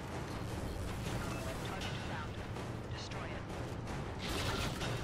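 Explosions and gunfire in the video game Warframe, a dense, continuous rumble of blasts and crackling bursts, with a louder surge near the end, while people talk over the action.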